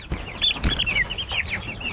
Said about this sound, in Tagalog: Maliliit na manok na yan.